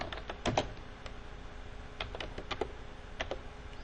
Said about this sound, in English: I'm just going to type in my job description.